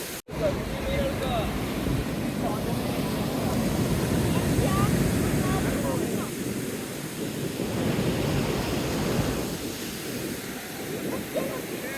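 A continuous roar of surf washes in and out on Bada Beach, with big waves, broad and noisy, with wind rumbling across the microphone the whole way through.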